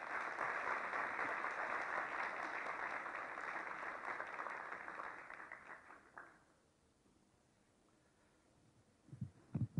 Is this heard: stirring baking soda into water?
no